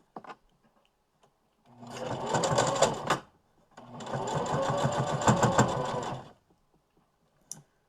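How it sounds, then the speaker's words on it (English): A sewing machine top-stitches through the thick pleats of a fabric mask in two steady bursts of whirring, rattling stitching about two seconds each, close up, separated by a short pause, with faint clicks before and after. "Now your machine might protest a little bit because it's going over those pleats, so it's got quite a bit of fabric that it's trying to sew through now."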